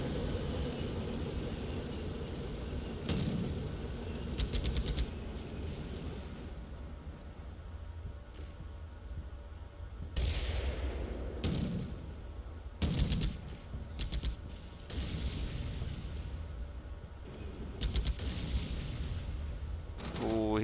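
Tank cannon fire and shell impacts in the Combat Mission Shock Force game, with Abrams and T-72 tanks in combat: repeated sharp blasts and bursts of gunfire over a constant low rumble, loud and close, with sporadic speech.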